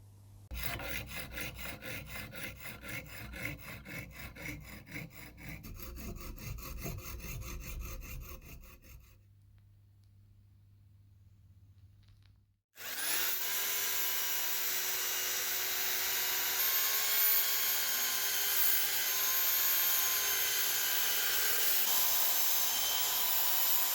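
Hand filing or rasping of an aluminium part for a classic Mini internal gear shift, a steady scraping rasp for about nine seconds, a short pause, then a louder continuous whining power-tool grind throughout.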